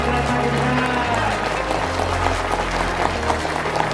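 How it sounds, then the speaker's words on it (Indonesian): Audience at a monthly religious study gathering in a Sundanese restaurant clapping hands together, a dense, steady wash of applause from many people throughout, with low tones running beneath. "mari kita tepuk tangan dulu"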